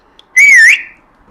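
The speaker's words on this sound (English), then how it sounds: "He sprang to his sleigh, to his team gave a whistle" A single bright whistle, short and wavering slightly in pitch, sounds loud and close, then fades quickly into silence.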